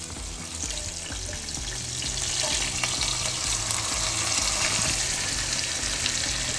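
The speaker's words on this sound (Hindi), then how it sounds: "और अब आपको एक मज़ेदार आवाज़ आएगी, ये जो इसका पानी है वो इसमें हम सुखा लेंगे।" Sarson da saag sizzles steadily in a pan as its water cooks off, a dense, continuous frying hiss that swells slightly louder partway through, with no talking.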